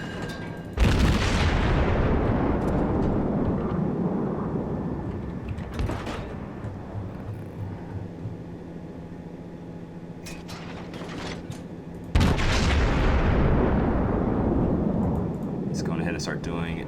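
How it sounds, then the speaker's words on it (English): Naval gun volleys in World of Warships: two heavy booming salvos, one at the start and another about twelve seconds later, each followed by a long rumbling decay and mechanical clanks, with a voice talking faintly in between. "He's going down this next volley."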